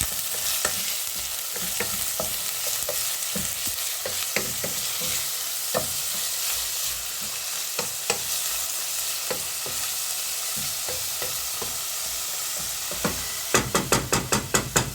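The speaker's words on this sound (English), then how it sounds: "We're going to cook the onions down until they're translucent and semi-cooked." A medium yellow onion sautéing over low heat in a pan, giving a constant bright sizzle broken by scattered spatula taps and scrapes, with a quick run of sharper clicks at the end; no voices.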